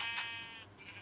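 A sheep in a crafting and building game bleats once, a short wavering cry that trails off, heard alone and fairly faint.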